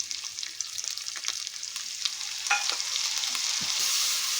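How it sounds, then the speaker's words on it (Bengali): Masala of cumin and coriander powders with a splash of water stir-fried in a pan for stuffed potol curry, a steady high sizzle with intermittent scraping stirs close by, no talking. "এবার মশলাটাকে ভালো করে কষবো"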